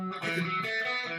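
Electric guitar with a distorted, effected tone plays a short run of connected hammer-on notes, sustained and steady, with no voices.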